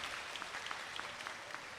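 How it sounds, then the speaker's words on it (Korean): A church congregation claps steadily at a Korean summer revival service to welcome a speaker, a brief, fairly soft and even patter of many hands. "큰 박수로 모시겠습니다."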